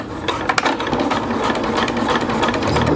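Sewing machine running steadily as it stitches the thick edge hem of an ultralight tarp near a corner, a continuous close mechanical whir with brief louder bursts early on.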